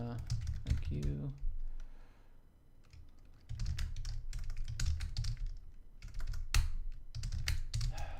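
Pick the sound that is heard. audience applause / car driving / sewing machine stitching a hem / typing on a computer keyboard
typing on a computer keyboard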